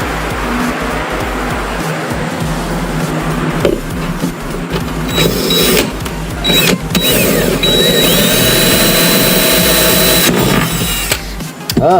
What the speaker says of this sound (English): I have to drill out this other side though.